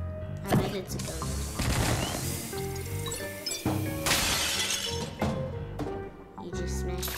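A suitcase smashed open in the video game Luigi's Mansion 3, heard as bright shattering crashes and clinks over busy game music, with people talking throughout.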